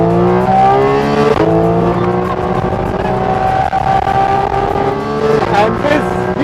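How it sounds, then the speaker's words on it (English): Porsche GT4 RS engine on a racetrack at dawn, loud and near, holding a steady high-revving note with rising and falling gear changes over six seconds, a GT3 nearby on the back straight. "Best sounding Porsche ever."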